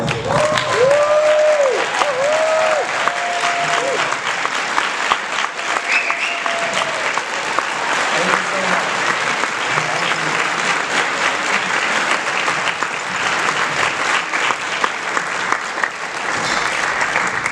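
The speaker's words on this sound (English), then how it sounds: "please join me in welcoming Congressman Peters to the floor" A conference audience gives sustained applause as a congressman comes to the floor for a keynote, with a dense, continuous wash of clapping that stays loud throughout, and brief musical tones sound near the start.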